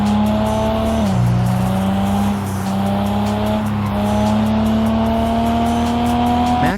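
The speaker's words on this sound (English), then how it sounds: "Max Drive lets you drive through a never-ending world with different landscapes and weather changing all the time" A car engine in the mobile driving game Max Drive drones at a steady high pitch, cruising along a highway with a shift in revs, continuous and loud with no voices.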